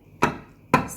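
A knife cuts through a baked four-cheese lasagna, making two sharp, close thuds against the dish about half a second apart in an otherwise quiet space.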